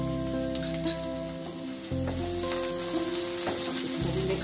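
Green chili and grated ginger fry in a pan with a steady close sizzle, broken by a few soft scraping stirs, no voices.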